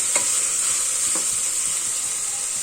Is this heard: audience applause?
no